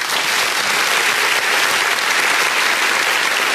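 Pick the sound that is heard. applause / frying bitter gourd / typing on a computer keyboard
applause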